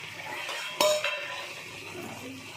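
Pomfret fish going into a pan of simmering green chili curry: a sharp clink of utensil against the pan, then gentle bubbling and faint scraping, close and fairly quiet.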